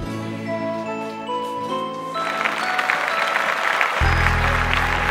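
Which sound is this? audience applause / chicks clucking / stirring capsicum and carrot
audience applause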